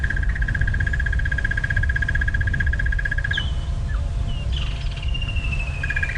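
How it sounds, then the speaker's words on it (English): Birds calling in summer woodland at dawn on a sunrise safari drive: a steady rapid trill runs for several seconds, then gives way to scattered chirps and short whistles over a constant low rumble. "the birds are definitely waking up"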